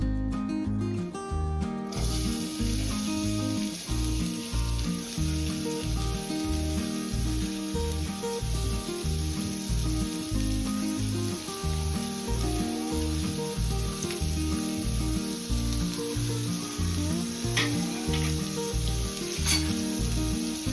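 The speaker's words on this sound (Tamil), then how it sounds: "எண்ணெய் காஞ்ச உடனே பெரிய வெங்காயம் கருவேப்பிலை எல்லாம் வதக்கிடலாம்." Big onions and curry leaves frying in hot oil give a loud, continuous sizzle close up, with steady crackling and a brief louder burst at the start.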